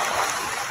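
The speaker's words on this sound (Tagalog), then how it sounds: "May tubig ako narinig." Water runs steadily and fairly loud, a broad continuous rush close by, with no voices over it.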